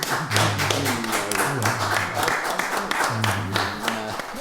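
A church congregation at a wedding claps after the couple's kiss, steady applause that carries on throughout, mixed with tonal background sound and taps.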